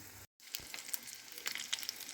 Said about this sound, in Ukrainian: Смажу котлетки на середньому вогні з кожного боку по 2-3 хвилинки. Смажу під кришкою.